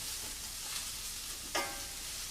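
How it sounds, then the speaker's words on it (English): Sliced mushrooms softening in a hot pan, a soft, even sizzle throughout with a brief utensil tap near the middle. "So we cook those mushrooms."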